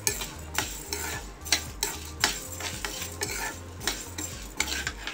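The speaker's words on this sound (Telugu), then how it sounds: "ఇవి కూడా వాటితో పాటు వేగనివ్వండి, మంచిగా మంచి టేస్ట్ వస్తాయి." Garlic and dried red chillies fry in oil in a pan for a toor dal chutney. A steady sizzle runs under rhythmic spoon strokes that scrape and clink against the pan at a brisk, even pace.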